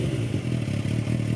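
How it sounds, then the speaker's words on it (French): Suzuki Katana S motorcycle with an Akrapovic exhaust, a loud continuous engine drone with a gruff, pulsing low-end rumble, heard up close with no voices. "La sonorité de l'échappement à Krapovic fait vraiment sport"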